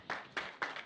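Audience applause at a forum on the migration and future of free-to-air television transmission, heard as a brief, moderately loud burst of clapping with a few distinct swells, not accompanied by any talk.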